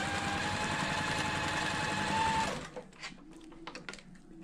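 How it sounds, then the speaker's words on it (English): A sewing machine chain piecing fabric along a drawn line, a fast steady whirring stitch at close range that stops abruptly partway through, leaving a few soft clicks and handling sounds. "I'm sewing exactly on that drawn line"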